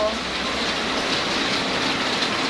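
Steady rain falling outdoors, a dense, even hiss of drops on surfaces that holds constant and fairly close for the whole stretch, with no other clear sounds on top.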